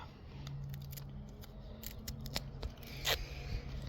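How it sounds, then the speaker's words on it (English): A small razor knife slices through a strip of sandpaper in a quiet workshop, making close, crisp rasping cuts in short bursts. "Just take my little razor knife and cut it"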